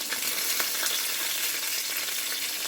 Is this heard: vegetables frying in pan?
yes